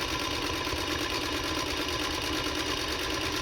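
A Singer 221 Featherweight sewing machine stitches a seam on regular fabric at about 12 stitches per inch, giving a steady, close, continuous mechanical whir and rapid needle chatter with no pauses.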